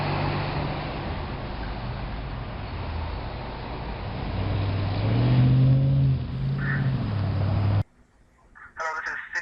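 Cars turning on a city street produce engine hum and road noise under a voice, swelling briefly in the middle before cutting off abruptly to near silence near the end.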